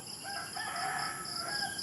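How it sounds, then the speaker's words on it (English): A rooster crows once in the Philippines at sunset, a drawn-out, moderately distant call heard alone over steady insect or ambient hum. "the crow doesn't like it. The rooster doesn't like it either"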